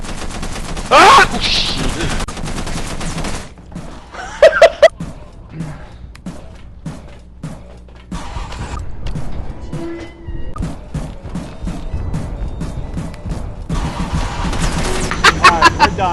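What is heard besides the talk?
machine gun fire from a dog monster in video game Content Warning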